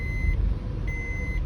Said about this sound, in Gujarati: જો એક આ બીજો ટ્રક આવ્યો.